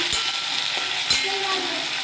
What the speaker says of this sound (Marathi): ते वांग आपल्याला मस्त तेलामध्ये परतून घ्यायचं आहे